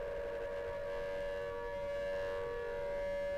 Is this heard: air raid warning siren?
yes